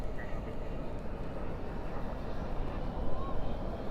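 An American Airlines Boeing 787-9 Dreamliner bound for Dublin takes off at night from Dallas/Fort Worth airport with a deep, continuous engine roar, steady and somewhat distant, with faint voices in the background.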